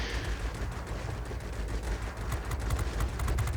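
Heavy 45 mm aircraft cannons on a TU-1 fighter in World of Warplanes fire in rapid bursts, a continuous dense barrage of booming shots with engine drone beneath, loud and close.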